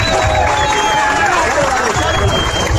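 Concert audience at a send-off event for a performer in Cobán, Guatemala, applauding and cheering, a loud, dense, continuous wash of clapping and crowd noise held steady throughout.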